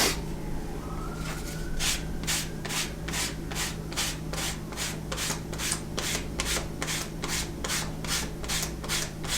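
Leather for a bi-fold wallet being rough sanded, a steady series of evenly spaced scraping strokes, close and continuous, with no talking.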